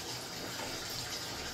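Water poured from a bucket into an automatic washing machine that isn't hooked up to a supply, a steady, close rushing splash that holds level the whole time.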